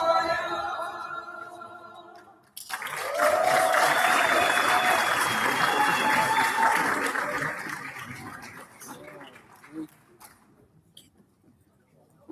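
An audience claps for the DUT Choir at a waste innovation challenge launch, with a loud, sustained round of applause that gradually fades out. Talking is heard just before it starts.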